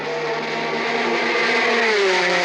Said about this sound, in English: Here the cars reach maximum speed, the fastest ones close to 200 miles an hour.